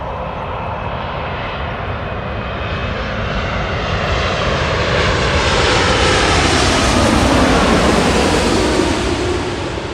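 A Turkish Airlines Boeing 787 Dreamliner at Los Angeles International Airport roars with a loud, steady jet engine rush. The sound swells and shifts in pitch as the aircraft passes, sustained for the whole stretch with no voices.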